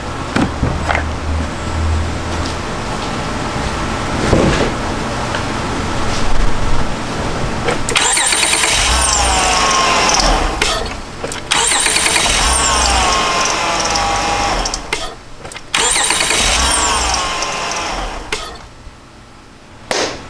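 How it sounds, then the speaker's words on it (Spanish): An Acura TL engine cranks and starts after a starter motor replacement, with mechanical whirring and cranking bursts followed by a steady idle, close and loud, with no talk. "vamos a darle a prender al vehículo"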